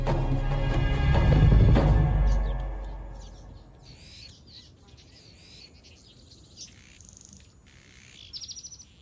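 Male weaver birds busy building hanging nests in a dry, dusty Arabian landscape chirp and call in short bursts, after a loud swell of music fades out.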